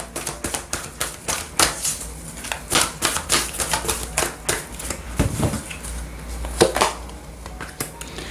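Oracle cards being shuffled and drawn by hand, a rapid run of papery flicks and slaps in irregular bursts, close and moderately loud with no talking.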